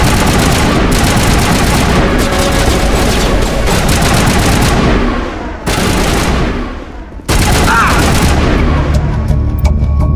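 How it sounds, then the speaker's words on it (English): A dense firefight in Mass Effect erupts in continuous loud gunfire and bursts, with a couple of brief breaks, and voices shout amid the shooting. "Open fire! Open fire!"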